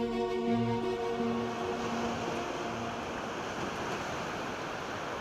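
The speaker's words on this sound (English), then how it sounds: "These are waves rushing Omaha Beach in Normandy, France" Waves rush onto Omaha Beach in Normandy, France, as a continuous broad surf wash. A faint tonal hum at the start fades out and leaves only the steady roar of water.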